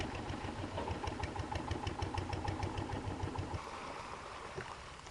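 A river boat engine on the Irrawaddy River chugs steadily at a moderate distance, its rhythmic knocking drone easing off in the last seconds over faint water noise.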